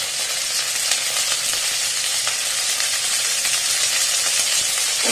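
Green chillies sizzling in a frying pan for a Chinese-style dish, a loud, dense, unbroken hiss of hot oil that holds steady throughout with no voices.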